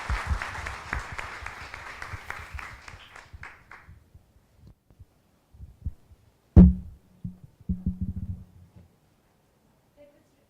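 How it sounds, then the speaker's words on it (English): An audience at a chemistry symposium claps after a talk, a dense burst of applause that fades out within a few seconds, followed by a few isolated thumps and quiet handling noise. "let us give him a big applause"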